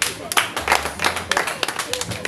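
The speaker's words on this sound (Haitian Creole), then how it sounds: "On applaudit." Audience applause at a Haitian children's show introducing a drama: a dense patter of clapping that rises and falls across the whole stretch, fairly close, with no talking.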